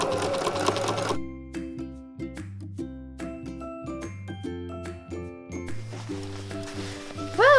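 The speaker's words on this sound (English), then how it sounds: "let's sew it up." A sewing machine stitches the center back seam of a jacket lining, running in repeated close, loud bursts separated by short pauses, with no talking.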